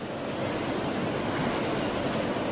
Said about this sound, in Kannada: ಜಲಾಶಯಗಳಿಂದ ಬಿಟ್ಟಂಥ ನೀರು ಹರಿದು ಬರ್ತಾ ಇದೆ.